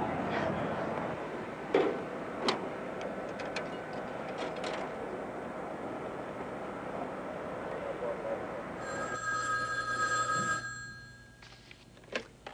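A telephone bell rings in bursts during an office scene, with clicks and knocks throughout and a sustained tonal ring near the end, under faint background chatter.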